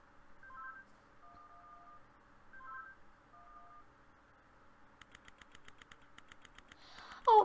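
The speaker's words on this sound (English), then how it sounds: "Cell phone." A cell phone in the video game Henry Stickmin sounds a sequence of electronic dialing tones, followed by a rapid burst of short clicky key blips and a final chirp.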